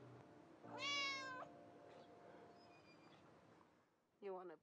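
A pet cat named Mui gives a clear, drawn-out meow at close range, then falls silent, then lets out a second, shorter meow at the end. A steady low hum sits underneath.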